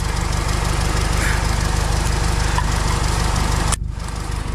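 A diesel four-wheel-drive vehicle's engine with an abnormal valve noise after crossing Baima Snow Mountain runs steadily and loudly up close with a fine rhythmic ticking, then abruptly drops and changes tone near the end.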